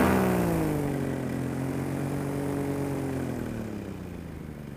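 Small model aircraft engine running steadily near a middle school at dusk as the plane comes in to land, a droning tone with harmonics that shift slightly in pitch, loud at first and gradually fading.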